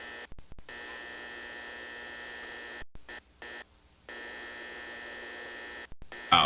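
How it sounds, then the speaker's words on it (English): Static and electrical hum from the Five Nights at Freddy's 1 sound files: a steady buzzing drone with a high whine, broken by several abrupt dropouts into near silence and a louder burst at the end. "That static is Five Nights at Freddy's 1 sound files."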